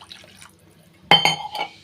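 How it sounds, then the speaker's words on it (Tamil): A sudden splash of extra water poured into a pot of coconut milk rasam, brief and close, after a moment of near quiet. "இன்னும் கொஞ்சம் எக்ஸ்ட்ரா தண்ணி சேர்த்துக்கிறேன்"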